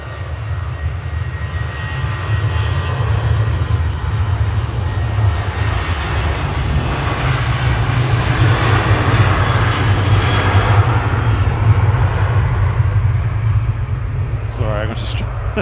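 A KLM jet airliner departing Manchester Airport for Amsterdam, its engines producing a loud, sustained roar that swells and holds at close range, with a brief higher sound near the end.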